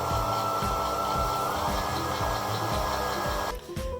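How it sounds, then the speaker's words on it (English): A stand mixer whips meringue with a pinch of salt, its steady motor whir and beater churn running loud and continuous, briefly shifting in tone near the end. "we start mixing in a stand mixer"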